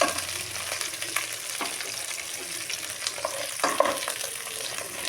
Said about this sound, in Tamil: அடுப்பை சிம்மை வச்சுட்டு நம்ம வதக்கிக்க போகிறோம்.